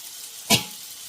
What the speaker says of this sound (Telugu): ఇది టమాటాలు మెత్తగా మగ్గేదాన్ని మగ్గించుకుందాం